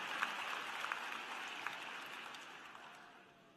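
Applause from a graduate commencement crowd honoring family members and friends, a soft, distant patter of many hands that swells briefly and then fades away.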